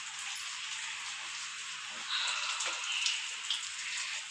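Rainwater leaking into a house room makes a continuous soft hiss of falling water with a few brighter drips after days of rain, fairly quiet and close.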